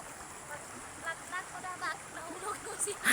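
Floodwater from a swollen river rushes past as a steady broadband hiss, with scattered voices talking over it throughout.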